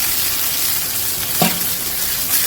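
Kebabs fry on a hot tawa with a steady broadband sizzle, joined by a brief scrape or stir partway through.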